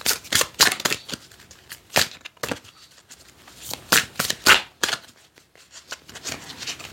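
Oracle cards being shuffled by hand, close up, in a series of brisk papery riffles and flutters with short pauses between bursts, and no talk.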